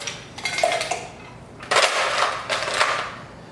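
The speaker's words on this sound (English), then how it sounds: "So I'm gonna put just a little bit of ice in here just to mix this up." Ice goes into a cocktail shaker for a White Russian, a few bursts of hard clinking and rattling as cubes drop and knock against metal, close and crisp with brief pauses between.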